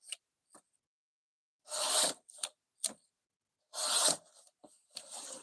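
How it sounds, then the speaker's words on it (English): A knife being sharpened close by, with a few separate scraping strokes, some longer and louder, with short silences between them. "I only sharpen my own knives."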